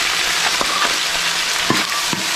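Ginger garlic paste fries in a pan with a loud, steady, close sizzle and crackle, broken by a few soft stirring scrapes.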